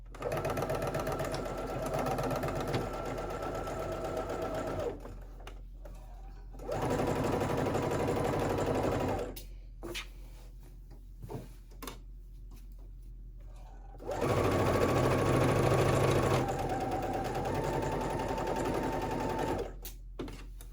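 A sewing machine stitching a summer halter maxi dress runs in three sustained whirring bursts of several seconds each, separated by quiet pauses with small clicks and handling of fabric and ties.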